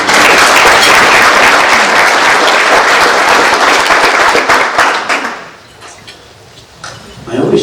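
Loud, dense applause from an audience at a county government State of the County event, filling the room for about five seconds before quickly fading to a few scattered claps and quiet, with a faint sound at the end.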